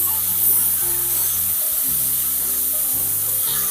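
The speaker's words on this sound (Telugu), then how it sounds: "కొత్తిమీర, పుదీనా వేసిన తర్వాత కొంచెం కలుపుకుందామండి" Onions frying in a pan with freshly added coriander and mint, a steady close sizzle running throughout with a low continuous hum underneath.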